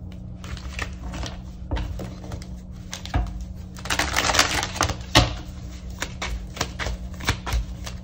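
Tarot cards being drawn, shuffled and handled on a surface, a close flurry of soft snaps, flicks and taps in uneven bursts over a low steady hum.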